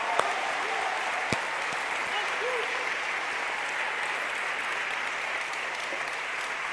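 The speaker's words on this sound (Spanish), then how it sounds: "Un aplauso más grande para el Señor." A church congregation at an evening prayer service applauds steadily, the clapping moderately loud and even throughout, with a faint voice and a couple of sharp knocks under the applause.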